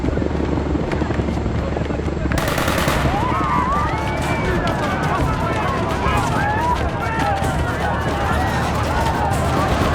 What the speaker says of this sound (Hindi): ये गोलियां कहां से चल रही है?